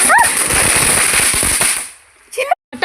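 Diwali firecrackers bursting outdoors: a dense, loud, rapid string of crackling pops lasting about two seconds, then fading, followed by a brief voice.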